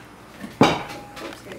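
A tablespoon clinks against a bowl while scooping chocolate cupcake batter, one sharp close metallic tap followed by softer scraping, with faint kitchen handling around it.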